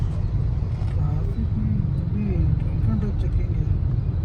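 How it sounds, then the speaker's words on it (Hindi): Steady, dense road traffic around a taxi at 11 pm near Marathahalli, a continuous low engine rumble with passing vehicles throughout, while people talk over it. "रात के 11 बजे भी इतना ट्रैफिक हो रखा है।"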